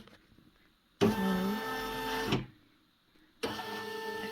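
A domestic embroidery sewing machine runs its motor to trace the stitch-out area, giving a steady mechanical whir with a shifting tone for about a second and a half, then a pause, then the whir again, close and loud.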